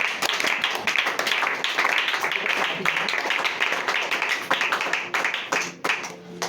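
A church congregation clapping and cheering during a worship service: dense, continuous applause mixed with raised voices fills about six seconds, then thins slightly toward the end.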